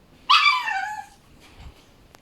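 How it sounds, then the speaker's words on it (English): A puppy lets out a single short, high whimpering yelp close by, which fades into a soft whine and then quiet. "And that's a dog."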